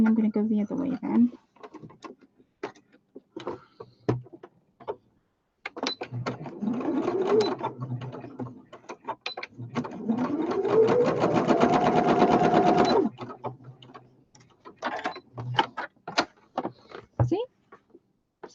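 A sewing machine stitches homemade fabric weights in several bursts. Its motor whine rises and then holds steady during the longer runs, with clicks and handling noises between them and intermittent voices.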